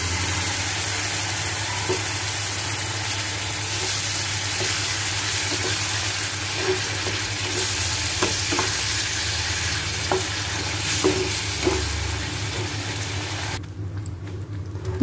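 Egg curry masala sizzling steadily in a pan after water is poured in, a constant close bubbling fry with small pops, and no voices over it.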